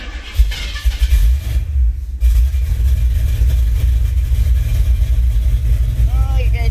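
A cheap $500 old car's engine idles roughly, running rich, with a steady low rumble that stays close and loud, briefly dipping before settling back; no talk over it.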